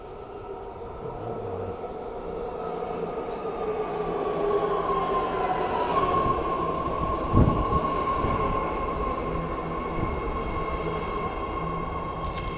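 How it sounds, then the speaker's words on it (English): An 8-car BART Fleet of the Future Red Line train to Richmond pulls into San Bruno Station with a steady rumble and a high tonal whine that shifts pitch, ending in a thump, a screech and a brief squeal of wheels. "here comes the 8-car Richmond train, Fleet of the Future Red Line at San Bruno Station"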